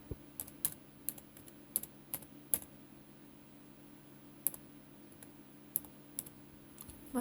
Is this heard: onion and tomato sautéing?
no